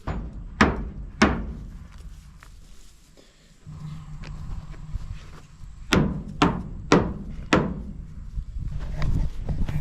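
Sharp hammer strikes come in two bursts, two early blows then a quicker run of several, separated by a quiet pause.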